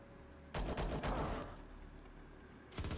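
Gunfire from the Star Traders Frontiers video game: two dense bursts of loud shots, one lasting about a second and a shorter one at the end, separated by a quieter stretch.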